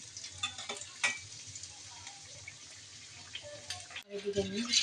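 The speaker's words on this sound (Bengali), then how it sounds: "এই তো মোগলাটা ভেজে নিচ্ছি" Mughlai paratha stuffed with egg frying in a pan, a soft steady sizzle with occasional stirring and scraping, fairly quiet throughout.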